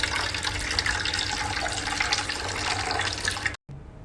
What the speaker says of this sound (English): Then the water will come out from the tubes.